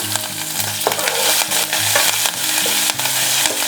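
Dried red chillies, asafoetida, curry leaves and green chillies fry in hot oil for a tempering, giving a loud, steady sizzle with scraping stirs and brief crackling bursts throughout, no talking.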